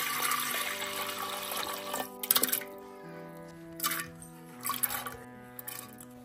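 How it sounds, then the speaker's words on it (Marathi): Water poured into soaked dal lentils in a cooking pot makes a few short, splashy bursts of pouring and trickling over quiet background tones in a kitchen. "पाणी घालते"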